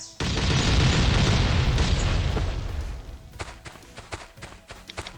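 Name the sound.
explosive blast in a video game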